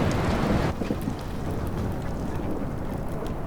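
Stormy weather in Life is Strange roars as a dense wash of heavy rain and low rumbling, loud and constant, with a brief louder burst at the start.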